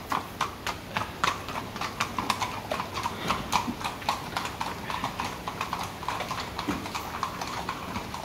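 Horse hooves clip-clop in a steady, even rhythm on a hard surface, crisp and close, continuing without pause over faint background noise.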